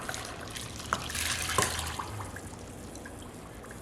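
Vinegar poured into a cooking pot, a faint, soft liquid trickle with a couple of small splashes, quiet and close.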